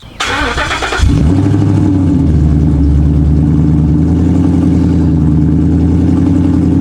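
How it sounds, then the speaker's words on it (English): A 2015 Ford Mustang 5.0 V8 cold-starts with a sharp cranking whir, then catches and roars to a loud, deep, rumbling high idle that holds steady through a carbon dump exhaust with built-in muffler. "We about to give it a cold start."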